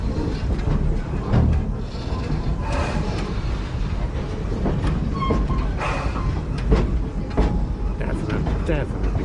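A theme park train rumbling past on the rails, a loud continuous roar with faint clicks and squeals, a voice talking over it.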